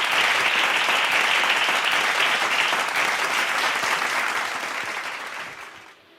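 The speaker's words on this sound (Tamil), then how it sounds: "நல்லா கைத்தட்டுங்க" Dense, sustained applause from an audience at a Bible study gathering, loud and even for several seconds before gradually fading out at the end.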